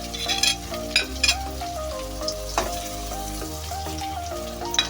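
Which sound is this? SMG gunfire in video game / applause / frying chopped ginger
frying chopped ginger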